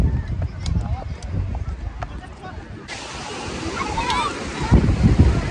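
Sea waves washing onto the shore, a continuous rushing surf with wind buffeting the microphone, swelling louder toward the end.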